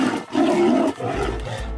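A tiger roars while facing a crocodile that stole its prey, a loud, close, deep growling roar in two long surges with no talk over it.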